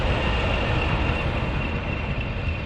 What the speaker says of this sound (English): We've got a train here coming.